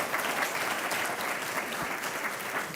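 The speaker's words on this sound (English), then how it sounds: "Round of applause, please." Steady audience applause at a food summit panel on healthy eating access in North Carolina, continuous moderate clapping heard from a distance.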